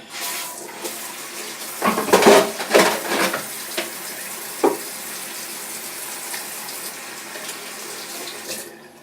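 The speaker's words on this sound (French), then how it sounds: "Et me laver les mains également" A tap runs steadily while hands wash beneath it, with splashing bursts and rubbing near the sink that rise and fall before the water settles.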